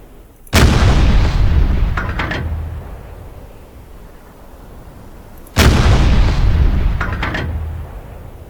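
Two heavy gunfire blasts from UBOAT's deck-gun bombardment of a submarine, each a sharp loud boom with a long rumbling decay, about five seconds apart, with no voices.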